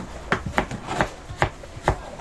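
A knife chops cabbage on a board for misua soup, with about five crisp, evenly spaced cuts close by and no talk over them.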